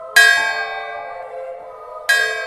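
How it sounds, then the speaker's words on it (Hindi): Temple bells ring out in two loud, bright strikes about two seconds apart, each leaving a long shimmering decay that hangs between them, with no voices. "ये मंदिर की घंटियों की इतनी आवाजें कहाँ से आने लगी?"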